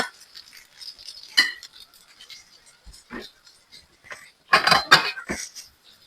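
A spoon clinks and scrapes against a bowl as an egg mixture for breakfast is stirred, light irregular taps with a few louder clusters of clinks, close and fairly clear, with speech passing at moments.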